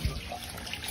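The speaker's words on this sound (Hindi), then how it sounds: "तो उसमें तो भाई मोटर लगाई है, मोटर से पानी अभी भरते हैं।" Water from a motor pump pouring into a bucket, a steady close splashing and gurgling stream heard alone for a moment.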